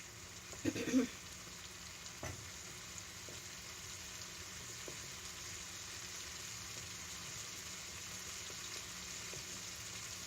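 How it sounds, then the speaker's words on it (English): A steady, quiet sizzle of mint frying in a pan for Turkish yogurt soup, a constant soft hiss with a few faint clinks near the start. "Don't know if you can hear that sizzling."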